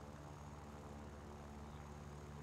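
Steady propeller engine drone of a LaGG-3 fighter plane in War Thunder, a constant, even hum with no breaks, moderately loud and alone.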